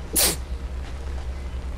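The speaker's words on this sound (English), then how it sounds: "Oh, I gotta sneeze." One sharp, close human sneeze bursts out near the start, then gives way to a low, steady background hum from a horror video game.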